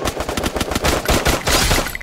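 Rapid automatic gunfire in the video game Free Fire, a dense loud burst of shots rattling continuously for about two seconds with no talking.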